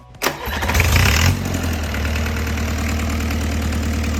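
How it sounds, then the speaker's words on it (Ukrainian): Perkins A4.154 diesel engine of a Claas Compact combine cranks and catches with a loud surge, then settles into a steady, close, knocking diesel idle. "Запускаємо двигун."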